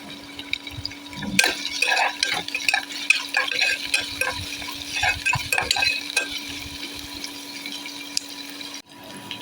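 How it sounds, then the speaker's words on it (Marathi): Onion and chillies sautéing in oil in a pot, with a steady crackling sizzle under repeated scraping stirs. A brief louder clatter comes early on, and the frying continues close and moderately loud throughout, with no voices. "आता आपण कांदा त्याच्यामध्ये मिरची वगैरे सगळं घालून घेतो छान परतून घेऊ"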